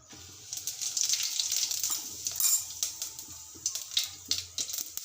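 Half a teaspoon of cumin seeds sizzles in hot oil in a pan while stuffed brinjal shaak is being prepared. A soft, steady hiss carries light crackles and a few faint clinks of utensils, with no speech.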